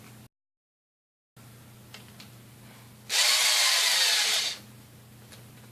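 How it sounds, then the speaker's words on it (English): A small power driver tightens screws on a Mini Mamba V2 mini quadcopter frame, one short loud whirring burst of about a second and a half amid quiet room tone. "push it down to the threads, and then you just start tightening them up."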